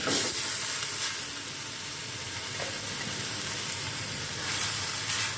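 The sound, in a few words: chopped onions sautéing in oil in a pan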